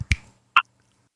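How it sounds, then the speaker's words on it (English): A woman snaps her fingers twice in a quiet backyard, two sharp, close clicks about half a second apart, with no talking. "She is snapping her fingers at me."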